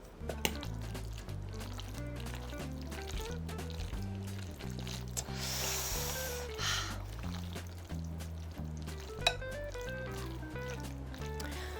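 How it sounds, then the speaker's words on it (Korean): Tomato pasta cooked in a microwave stirred in its container, a steady stream of wet squishing and sticky saucy sloshing under a constant low background hum, close up with no talk. "저어볼게요"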